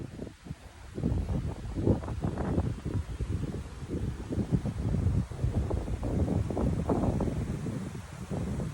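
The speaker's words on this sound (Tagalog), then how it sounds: "Ang sarap pa ng hangin be." Outdoor wind blows in gusty, rumbling bursts across the microphone, with rustling noise rising and falling throughout and no clear speech.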